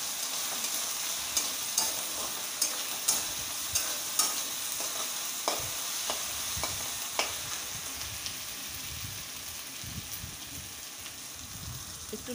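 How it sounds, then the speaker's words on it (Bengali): Ginger garlic paste sizzles in oil with onion and green chillies, under a soft, steady hiss and repeated spatula taps and scrapes against the pan. "আদা রসুন বাটা দিয়ে ভালো করে ফ্রাই করছি।"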